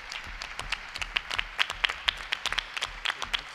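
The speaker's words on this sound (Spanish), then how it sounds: "un pequeño aplauso ya para ellos pues vendría bien para ir calentando un poco motores" Audience at a Podemos circle presentation in Fuente Vaqueros breaks into brief applause, a thin spread of scattered hand claps, fairly faint and roomy, lasting a few seconds without talk.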